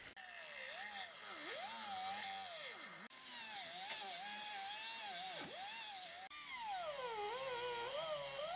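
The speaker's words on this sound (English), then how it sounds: "So let me grab the grinder and do that." An angle grinder cuts and shapes steel for an intercooler mount on a replica Audi Sport quattro, a loud continuous whine that rises and falls in pitch as it bites the metal, with two brief breaks.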